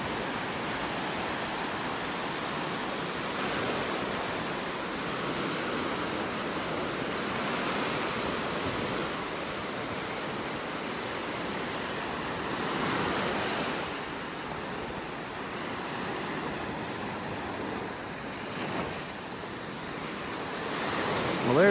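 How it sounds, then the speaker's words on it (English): Ocean waves roll and break on a beach in North Naples, Florida, a loud continuous wash of surf with gentle swells and some wind buffeting the microphone, no voices. "Those waves don't seem to bother them too much."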